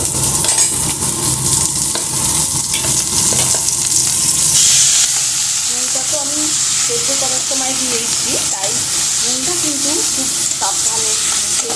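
Onions frying in a pan with boiled banana stem stirred in, a loud steady sizzle with scraping stirring strokes throughout, the hiss easing slightly partway through.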